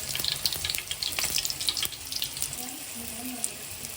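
Garlic drops into hot oil in a kadhai, giving a bright, steady sizzling crackle up close that runs throughout, slightly softening toward the end.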